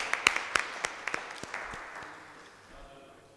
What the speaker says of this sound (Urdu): تالیاں تھوڑی سی.